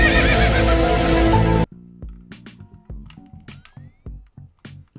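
A horse neighs loudly and close as a sound effect, its whinny breaking into several rising and falling bursts over clip-clopping hooves, right after a dense, loud burst of other sound.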